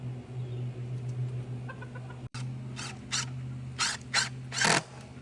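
Backyard chickens cluck nearby around a coop and run, with soft low murmurs followed by several sharper, louder clucks in bursts toward the end, heard alone without talk.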